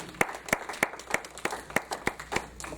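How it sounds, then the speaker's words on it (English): A church congregation claps in unison for Jesus during a worship service. There are about eight sharp, evenly spaced claps in a steady rhythm, fairly close and clear. "Clap for Jesus."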